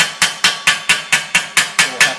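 Sharp, ringing hammer blows on sheet metal while forming a triangular roll, about nine evenly spaced strikes in quick steady rhythm, each with a short bright decay, loud and close with no talk.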